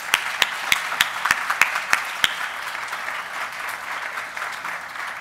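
An awards symposium audience applauds an award winner with a steady wash of clapping. A few louder, distinct claps stand out near the start before it settles into even, continuous applause lasting several seconds.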